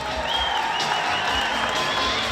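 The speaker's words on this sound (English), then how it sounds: "Let's give these students and administrators a big round of applause right now" A rodeo crowd at Fiesta Days applauds and cheers students and administrators, a steady dense wash of clapping with scattered whistles over an arena announcer's amplified voice.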